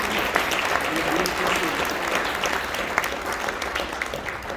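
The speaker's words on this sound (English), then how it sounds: "Give these folks a thunderous round of applause for their leadership at the National Association." A crowd at a keynote luncheon of the AREAA GLS 2022 real estate conference claps continuously, a dense, even wash of applause with scattered sharper claps throughout.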